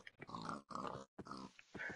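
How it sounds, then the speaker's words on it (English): Pigs in a survival video game grunting and oinking in three short clustered bursts separated by brief silences, clear and close with no talking. "I'm going to kill off the pigs for now"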